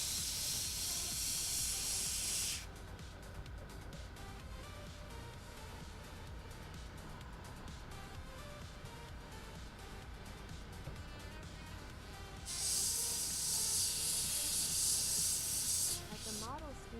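Airbrush spraying paint onto a scale model M60 or Abrams tank, a close, steady airy hiss in two bursts at the start and near the end, with quieter rubbing and handling noise between them.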